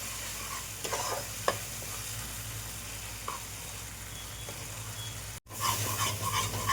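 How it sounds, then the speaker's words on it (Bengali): Food fries in oil in a kadai while a spatula stirs it, a continuous sizzle punctuated by occasional scraping strokes; the sound cuts out for a moment, then resumes louder and fuller. "আর এটাকে ভালো করে নাড়িয়ে নেব যাতে তেলটা পুরো টেনে যায় এর মধ্যে।"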